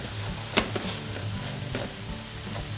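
Flour sizzles in hot oil in a pan as it is stirred, a steady close crackling hiss broken by a few sharp clicks of a utensil against the pan.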